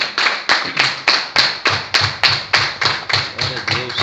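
A church congregation claps together in a steady, loud, rhythmic beat, about three claps per second, the sharp strikes close and even throughout.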